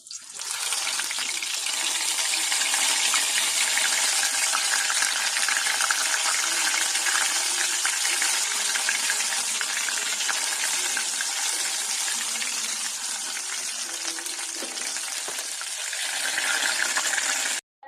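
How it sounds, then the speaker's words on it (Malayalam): Batter-dipped cauliflower florets deep frying in hot oil give a loud, steady broadband sizzle and crackle that runs unbroken and alone for nearly the whole stretch, then stops abruptly at the end. "ഈ പൂ ഓരോന്ന് ഇതിൽ മുക്കി ചൂടായ എണ്ണയിലിട്ട് പൊരിച്ചെടുക്കാം"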